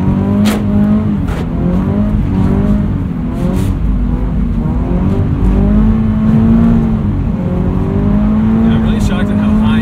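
A Subaru BRZ engine held at high revs while drifting on a skidpad after a clutch kick, the strained engine note rising and falling steadily with tire noise and people talking over it from inside the car.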